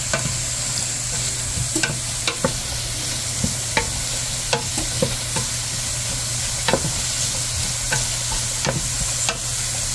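Garlic and onion fry in a pan with a continuous bright sizzle, broken by sharp clicks and taps of stirring scattered throughout.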